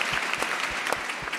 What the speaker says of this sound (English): I think we applaud for the question, first of all.